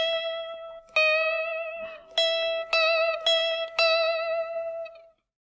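Guitar plays a short passage from a tune as single one-beat notes, five clear plucked attacks ringing on with bright sustained harmonics, close and alone with no voice.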